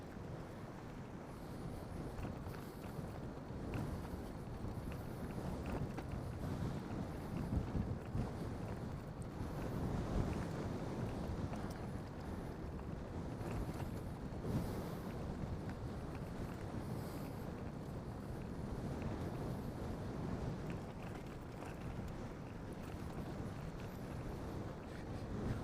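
A headwind buffets the microphone during a bike tour in South Korea, a continuous low rushing roar with gusty swells and no talking.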